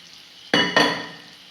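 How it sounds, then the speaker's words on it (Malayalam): Fried sardines and chili powder being stirred in a pan for sardine pickle, two sharp scraping, sizzling strokes close by, each fading away, with quiet in between. "ഉടനെ തന്നെ നമ്മൾ മീൻ വറുത്ത് വെച്ചതും കൂടെ ഇട്ട് കൊടുക്കുകയാണ്"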